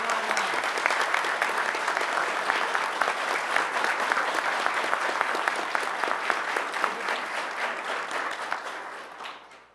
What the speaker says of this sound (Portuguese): a quem solicito uma salva de palmas